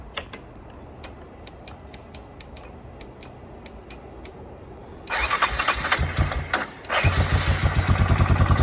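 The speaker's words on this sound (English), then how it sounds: "Most time you can hit the starter button, she'll fire right up." A 1996 Yamaha Kodiak ATV's starter ticks in a steady series of clicks before the single-cylinder engine catches and fires, then settles into a louder, steady running chug.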